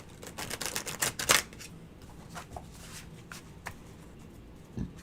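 Tarot cards being shuffled: a quick run of crisp riffling bursts early on, then a few sparser, softer card flicks and taps in a quiet room, with no talking.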